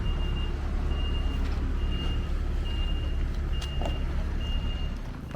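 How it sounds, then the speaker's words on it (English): A lorry reverses on a road, its alarm giving a steady series of evenly spaced high beeps over a loud, continuous engine rumble close by. "I could get flattened by a screw fix lorry"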